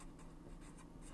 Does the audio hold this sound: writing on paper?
yes